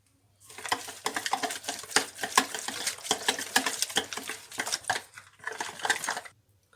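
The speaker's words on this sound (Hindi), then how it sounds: "अब इन चीज़ों को अच्छी तरह हम बीट कर लेंगे।" Spices and red food colouring for a chicken steam roast marinade whisked with a beater in a bowl, a close, continuous run of rapid scraping and clattering strokes with a brief pause near the end.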